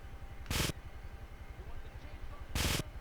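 Gunfire in GTA III Definitive Edition: two sharp, loud shots about two seconds apart over a low rhythmic background thump, fairly close, no speech.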